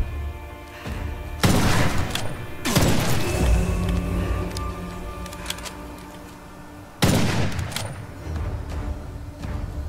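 Loud gunshots and sharp booms from the video game Witchfire ring out in several bursts, with a constant droning background between them.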